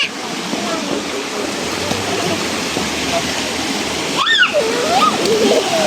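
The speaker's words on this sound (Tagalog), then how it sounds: "Lakas ng alon." Loud, steady rushing of water and strong ocean waves fills the scene, with voices talking over it.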